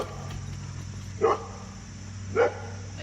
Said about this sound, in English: my dogs are being very noisy